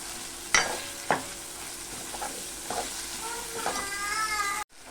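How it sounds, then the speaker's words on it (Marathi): Onion and tomato sauté in a pan for a matki usal. Close, spaced clanks and scrapes of stirring sound over a steady sizzle, which fades out abruptly at the end. "कांदा आणि टोमॅटो दोन्ही टाकून घ्यायचं आहे आणि चांगलं व्यवस्थित परतून घ्यायचं आहे"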